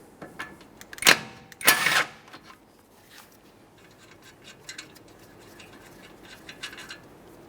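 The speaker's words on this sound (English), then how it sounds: "Use a 17mm to remove the mounting nut here" A 17mm socket on a ratchet works loose a mounting nut on a 2011-2020 Toyota Sienna suspension knuckle, two loud close bursts of rapid ratcheting clicks followed by lighter, scattered clicks and taps.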